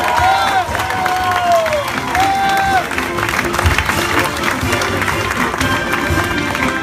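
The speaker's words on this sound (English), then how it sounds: "Please give both of these guys a round of applause." An audience at a Fourth of July veterans celebration claps and cheers for honored servicemen, a dense sustained wash of applause with whoops and scattered voices riding on top throughout.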